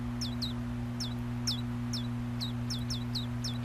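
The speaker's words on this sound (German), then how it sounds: "Kein anderes Vogelküken auf dieser Welt ist so laut wie diese Belger vor dem Fenster" Loud bird chicks squawk outside a window in rapid, irregular short calls, repeating about a dozen times over a steady low mechanical hum.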